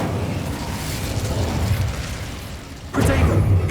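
Incendio fire spell cast in Hogwarts Legacy: a rushing, roaring burst of flame that runs steadily, then breaks off and surges again near the end into a louder, fuller whoosh.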